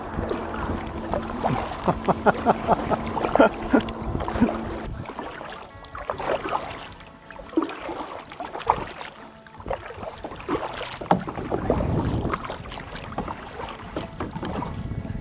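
Paddles working a small boat on tidal water near Little Talbot Island, Jacksonville, Florida, heard up close as irregular splashes and knocks over wind noise, with a few quiet gaps between strokes.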